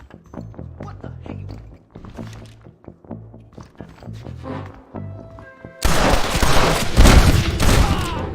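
Gunshots in a Red Dead Redemption standoff: after a stretch of quiet plucked notes, a sudden loud burst of rapid overlapping gunfire erupts and keeps going to the end.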